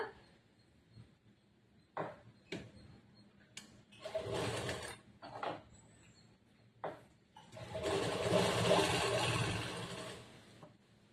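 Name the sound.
sewing machine stitching churidar pant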